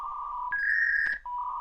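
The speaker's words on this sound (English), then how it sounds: "As you're dialing in to connect your internet, it sounds like this." Dial-up modem connecting to the internet, heard alone as a short run of steady electronic tones: a held mid tone, a jump to a higher squealing tone with a crackly burst, then a return to the lower tone.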